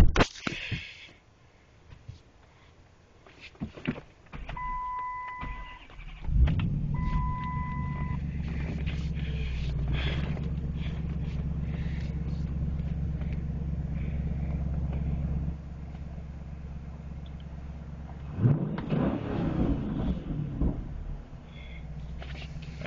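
A 2012 Dodge Challenger SRT8 engine cranks and catches, then settles into a steady low idle, followed later by a brief rev, with a few quiet beeps early on.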